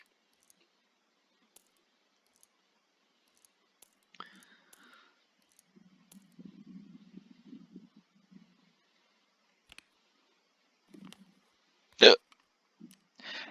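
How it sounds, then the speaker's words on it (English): A single loud, sharp hiccup bursts out near the end of an otherwise quiet stretch of faint clicks and rustling, followed shortly by a softer second catch of breath. "Hiccups to end this amazing episode."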